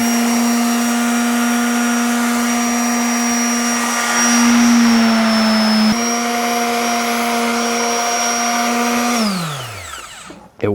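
A Harbor Freight power tool, used as a massager, runs loud and close with a steady high whine that dips slightly under load midway, then winds down and stops.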